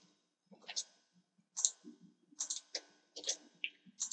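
Mouse clicks on a web sign-up form, sharp close ticks scattered irregularly across a few seconds, mixed with faint low background murmur.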